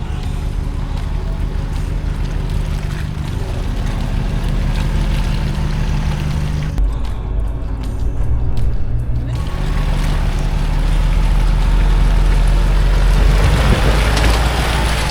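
A stock Isuzu D-Max with its rear diff lock engaged climbs out of a large muddy hole, engine droning steadily and building louder toward the end, with wind buffeting the microphone.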